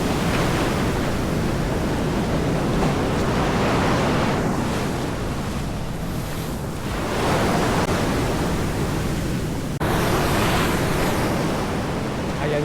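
Ocean surf rolls and breaks continuously along a beach at a Madagascar fishing spot, a loud wash of white-noise waves with wind, no voices, surging and easing over several seconds.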